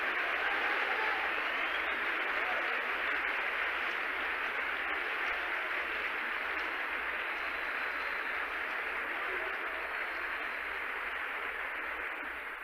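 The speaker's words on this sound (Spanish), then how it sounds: "Un aplauso" A congregation applauds continuously inside a church, a dense, steady wash of clapping that holds without a break.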